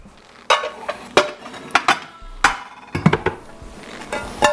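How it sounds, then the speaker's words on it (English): Several sharp clinks and knocks of a baking dish being handled and set down on a kitchen counter, irregular and close, with short pauses between impacts. "So we're gonna take a baking dish."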